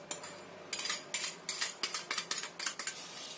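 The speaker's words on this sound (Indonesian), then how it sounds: "Kita aduk rata dulu." A metal spoon stirs sweetened batter for a steamed cake in a bowl, making a steady run of close, bright scraping and clinking strokes, about three per second, with no talking.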